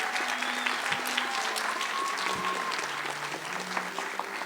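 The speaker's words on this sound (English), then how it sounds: "You got to give them a round of applause." Sustained audience applause after a community theater production of A Christmas Carol, a steady wash of many hands clapping throughout, with no break and no talk over it.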